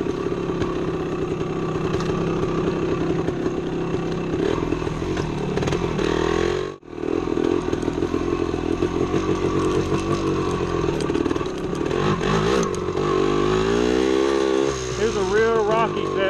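A 1975 Yamaha DT250 two-stroke engine pulls away in first gear on a rocky woods trail, its buzzy drone close and continuous with rising and falling revs and a short cut near the middle.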